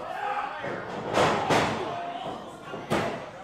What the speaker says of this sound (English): Good alley oop power bomb.